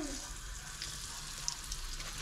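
A stuffed zucchini flower filled with mozzarella frying in hot oil, giving a continuous soft sizzle with a few faint pops, close and steady.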